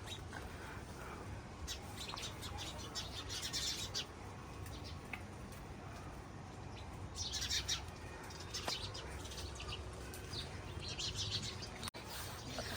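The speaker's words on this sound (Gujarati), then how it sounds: "અહીંયા જો સાંજનો ચકલાનો અવાજ" A large flock of sparrows chirps in the evening, a dense, continuous twittering that swells in several bursts against a low background rumble.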